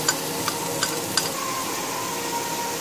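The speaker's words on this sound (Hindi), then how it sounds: "तेल डाले, कुकिंग तेल। फिर उसके बाद प्याज डालें" Onions frying in cooking oil in a pan, a steady close sizzle with a few light clicks of a spoon stirring at regular intervals, no talking.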